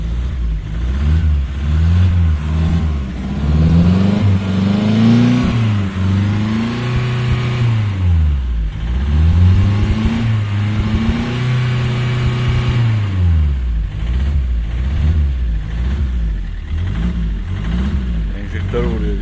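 Loud, near Opel Vectra diesel engine being revved again and again, its pitch swelling and dropping in a continuous cycle over a steady running rumble.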